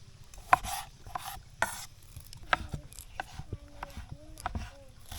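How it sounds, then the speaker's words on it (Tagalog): Tomatoes and other ingredients for a coconut soup are chopped by knife on a board, a few sharp, separate knocks spaced about a second apart, close and fairly quiet, with faint voices in the background. "Hiwain na natin mga kababayan yung ating mga sangkap para pasarap sa ating sinabawang buko"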